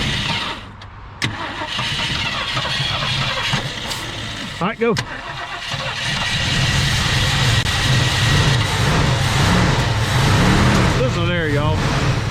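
A 1965 Mercury Montclair Breezeway, first started after 16 years, cranks and catches, then settles into a steady, close idle that grows louder and fuller, with people talking and calling out over the engine.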